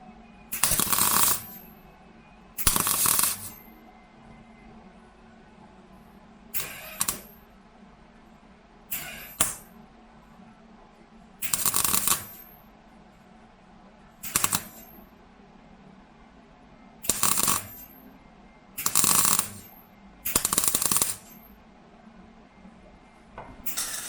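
Welding on the bodywork of a Bradford car: about ten separate crackling, hissing bursts of one to two seconds each, spaced irregularly between quieter pauses, heard close with no talk.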